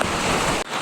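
Water gushes forcefully out of a drain onto a waterlogged street during heavy monsoon rain in Nalasopara, Mumbai, a brief loud rushing roar that drops off abruptly near the end.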